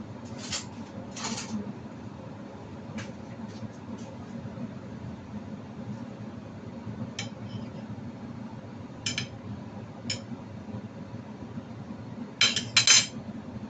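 Cutlery and dishes clink in sparse bursts at a meal of steamed beef with lettuce and vegetables, a few sharp scrapes and taps scattered over a steady low room hum, with a cluster near the end.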